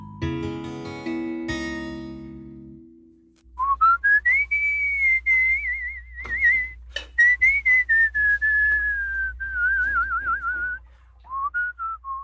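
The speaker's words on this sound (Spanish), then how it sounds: "Chifla usted." A person whistles a wavering, melodic tune with trills, preceded by a few seconds of music, with low background hum throughout.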